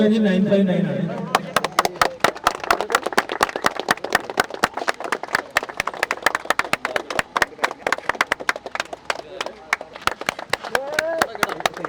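Members of a Ritz car club clap at an award gathering, after a voice at the start, with sharp, uneven handclaps continuing steadily throughout, close and fairly loud.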